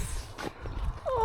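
Donkeys at a countryside B&B make soft shuffling hoof sounds and faint animal noises nearby, with a brief higher-pitched vocal squeal at the end, fairly quiet with no talk.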